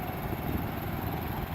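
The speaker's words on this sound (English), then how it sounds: "See the airplane?" A steady, loud drone of an airplane passing overhead, a continuous engine roar with no breaks and no talking over it.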